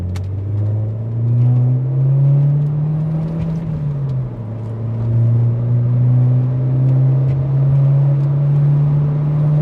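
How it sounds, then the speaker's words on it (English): A Mk4 VW 1.8T with a boost leak runs under load: a loud, steady engine drone that swells, dips briefly and climbs again, with no voices. "I'm hearing more of a high-pitched bleeding of pressure when it does its thing"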